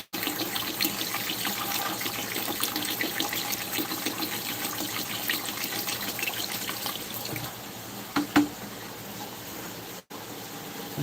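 Water pours steadily into a bucket holding newly bought pond fish, a continuous close splashing gush outdoors with a couple of brief knocks near the end, and no talking.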